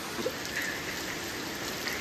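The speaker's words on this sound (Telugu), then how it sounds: "చూడు వర్షం చూడాలి గాయస్" Steady rain falls in a broad, even hiss during a sudden downpour on a riverside outing near Godavarikhani, Ramagundam, continuous and fairly close with no voices.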